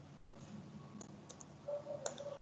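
Light, quiet clicking of keys on a computer keyboard while form details are entered, soft scattered taps over a faint background hiss.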